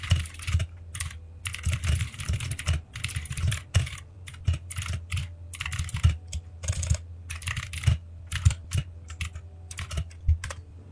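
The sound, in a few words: typing a request on a computer keyboard, pressing Enter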